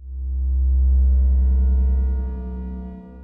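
Pitched-up delay feedback from a Make Noise Strega, set an octave up, rings as a loud metallic tone that swells, holds and then fades over a few seconds.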